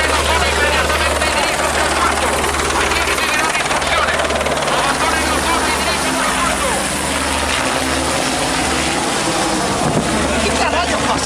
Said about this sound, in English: they saw a military helicopter appear, circling their boat